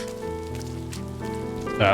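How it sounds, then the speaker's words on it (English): Rain pours steadily in the video game Rime, a constant hiss on surfaces laid over sustained musical tones, growing brighter and louder in the final moments. "no one should be out in this kind of rain for this long, right?"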